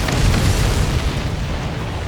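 Explosions boom in an aerial combat mission of the video game Ace Combat 7, a dense, rumbling roar of blasts that stays loud and continuous, then eases slightly toward the end.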